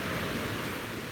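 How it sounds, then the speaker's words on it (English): Loud ocean waves wash onto a beach at sunrise in a steady, broadband roar with no distinct breaks, close and continuous throughout. "The waves are nice and loud"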